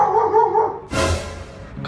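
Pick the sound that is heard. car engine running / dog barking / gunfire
dog barking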